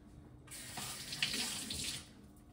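A kitchen tap runs water for rinsing, a close, steady hiss of flowing water that starts abruptly, holds for about a second and a half, then tapers off.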